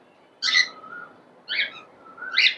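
Three bright, sharp cockatiel calls from a breeding bird at a farm sound close and fairly quiet, evenly spaced, with brief whistly tails between them and no talking.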